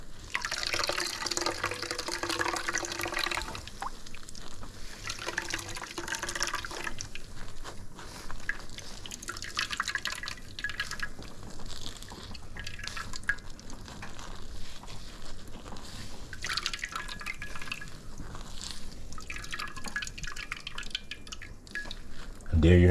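Rich coconut milk squeezed through a nut milk bag falls in soft drips and thin trickles that come in bursts, with a person talking quietly in the background the whole time.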